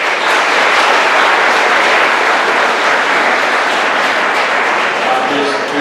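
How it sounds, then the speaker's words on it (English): An audience at a middle school promotion ceremony breaks into sustained applause, a dense, loud wash of clapping that holds steady for the whole stretch without letting up. "how about you providing a round of applause for the people in your families"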